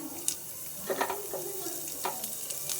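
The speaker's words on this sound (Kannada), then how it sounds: "ಸ್ವಲ್ಪ ಎಣ್ಣೆ ಹಾಕಿಟ್ಕೊಂಡಿದ್ದೀನಿ. ಅದಕ್ಕೊಂದು ಸ್ವಲ್ಪ ಸಾಸಿವೆ ಹಾಕಿ, ಸ್ವಲ್ಪ ಕಡಲೆಬೇಳೆ ಹಾಕಿ, ಅದಾದಮೇಲೆ ಬೆಳ್ಳುಳ್ಳಿ" Mustard seeds, chana dal and garlic fry in a little oil for a tempering. A soft, continuous sizzle carries light crackles and stirring scrapes, close by and fairly quiet.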